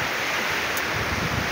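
Sea waves washing at Pantai Glayem beach in Indramayu, a steady broadband surf wash with wind noise on the microphone, close and continuous.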